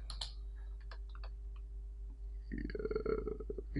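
Code being typed on a computer keyboard: a few scattered keystrokes at first, then a dense run of rapid clicking clatter, close and fairly quiet.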